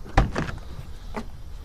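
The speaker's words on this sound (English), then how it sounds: "Usually you can just slam the door pretty good." The door of a 2008 Jeep Wrangler Unlimited is slammed shut once with a sharp, close thud, followed by a lighter rattle and a second softer knock about a second later.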